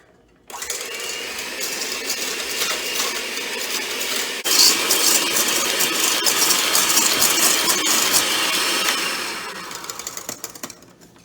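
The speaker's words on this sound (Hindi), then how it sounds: "ये हैंड मिक्सर से।" An electric hand mixer whisks egg whites for coconut macaroons, a steady loud motor whir starting abruptly, growing slightly louder midway, then tapering off near the end, with no talking.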